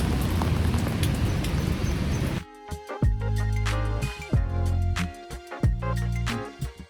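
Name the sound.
rain falling outside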